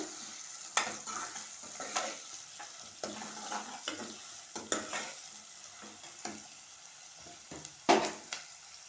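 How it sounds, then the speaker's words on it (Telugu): Onions stirred in a frying pan, with a soft steady sizzle and irregular scraping strokes of a spoon, plus a few sharper knocks against the pan, all close and fairly quiet. "ఉల్లిగడ్డలు ఇలా మంచిగా కలపాలండి"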